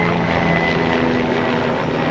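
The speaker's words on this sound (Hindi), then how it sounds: "ऊपर से हेलीकॉप्टर जा रहा है।" A helicopter flies overhead along the Kedarnath trek near Badi Linchauli in the mountains, a steady droning rotor and engine hum that holds fairly loud and even throughout with no voices.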